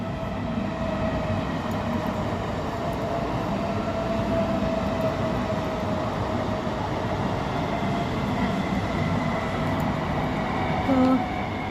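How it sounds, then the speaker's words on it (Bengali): A train approaching and rolling past, heard as a steady, loud rumble with constant rail noise running for about twelve seconds, plus a brief higher squeal near the end. "তারপরে এই যে ট্রেন আসছে,"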